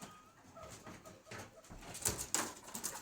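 Pheasants kept at a home give soft, low cooing and bursts of calls close by. The calls come and go in irregular bursts and grow busier toward the end, with no talk over them.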